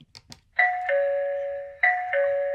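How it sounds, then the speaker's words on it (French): An EZVIZ HP5 connected video doorbell chime rings twice, each a sustained two-tone ding-dong, clear and close, following a couple of faint taps. "si je sonne directement sur la sonnette ici"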